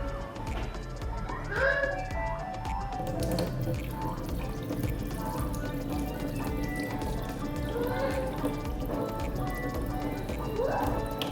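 Liquid is poured slowly off soaked odiyal (palmyra root) flour, giving a steady, moderate trickle and splash of water that runs unbroken for several seconds.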